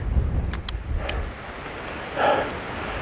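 Wind blowing across the breezy summit of Mahoosuc Arm on the Appalachian Trail: a steady rushing noise with gusty swells and low buffeting rumbles on the microphone.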